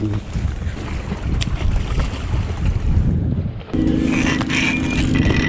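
Strong wind buffets the microphone on a fishing boat at sea, a loud constant roar with the hum of the boat's engine and water noise underneath, steady throughout with a brief dip before continuing.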